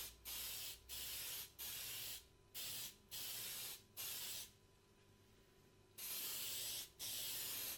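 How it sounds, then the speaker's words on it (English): Short bursts of aerosol spray paint hiss out one after another while coating both surfaces of a shield prop, about eight of them with brief pauses between, each a sharp airy rush. "I want a permacoat, so I'm spraying both surfaces."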